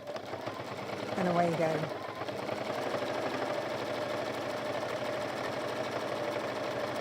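A sewing machine stitches a rivet-handled bag in a steady, close mechanical whir that runs throughout, with someone speaking briefly over the start.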